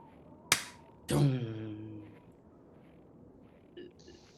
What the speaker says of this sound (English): Clap once if you also paint.